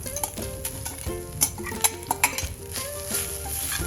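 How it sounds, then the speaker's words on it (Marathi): Freshly grated coconut sautéed in a pan, heard as soft sizzling under repeated scraping and clinking of a spatula against the metal, close and fairly quiet, with no talking. "परतून घेऊ छान खोबरं छान आपण परतून घेऊया छान परतले आपलं खोबरं"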